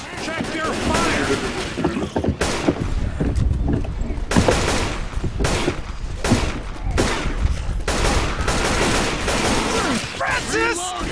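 Dense bursts of Left 4 Dead 2 gunfire from The Sacrifice campaign, with rapid shots and heavy volleys running almost without pause under several players talking, loud and close throughout.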